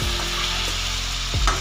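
Chicken fries in a pan with green peas nearby, a brief burst of sizzling with a couple of quick scraping stirs.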